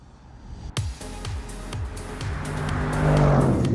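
A 2020 Audi S8 luxury limousine with a 4-litre V8 accelerates hard, its engine note rising through several gear changes and swelling into a loud, sustained roar up close.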